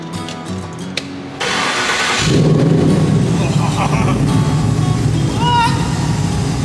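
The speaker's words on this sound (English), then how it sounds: "Hey Ram, come and check out the exhaust" A Coyote-swapped Ford Bronco engine cranks and fires up, settling into a loud, rumbling exhaust idle close by after a brief starter whir, with people talking around it.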